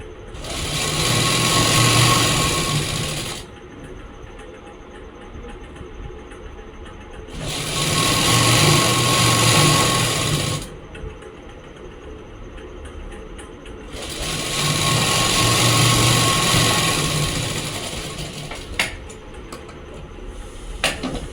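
A sewing machine stitches a palazzo seam with a half-inch margin in three steady bursts of close, loud whirring, each about three seconds long, with quiet pauses between them.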